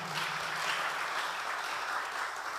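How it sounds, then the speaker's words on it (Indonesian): Steady congregation applause during a church worship service, a dense wash of clapping from many hands held at even loudness throughout. "Beri tepuk tangan lagi buat Tuhan kita."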